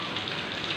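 Heavy rain falling in Bahawalpur, a dense continuous hiss of drops on surfaces, brief and moderately loud with no voices.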